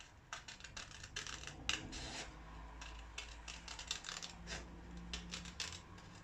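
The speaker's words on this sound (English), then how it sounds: "I'll use my bigger scissors for this bit. Just going to cut one of these" Large scissors cut through a small piece of card during a mixed media album craft, a series of quiet crisp snips and rustles.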